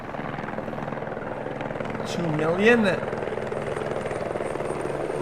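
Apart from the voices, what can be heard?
customs helicopter flying overhead at the US-Mexico border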